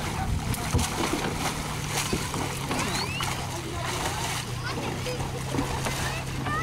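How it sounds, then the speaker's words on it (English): A roped alligator over nine feet long rolls and thrashes in water, making continuous churning splashes and sloshing under steady outdoor noise with a low engine-like hum. "He is rolling and tearing up the water."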